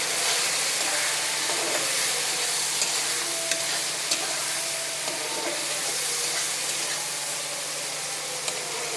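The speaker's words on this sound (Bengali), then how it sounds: "একটুখানি জল দিয়ে" Spice masala sautéed with a splash of water in a pan, a continuous loud bubbling hiss and sizzle with faint scraping of a spoon underneath, steady throughout.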